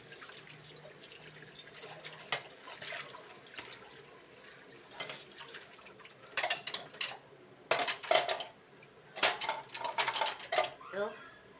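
Dishes, pots and cutlery being washed under a running tap, with water flowing steadily and clinks and clatters coming in clusters that grow louder and busier toward the end.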